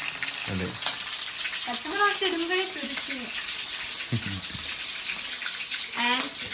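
Onions frying in a pan give a continuous sizzling hiss, with people talking over it at intervals.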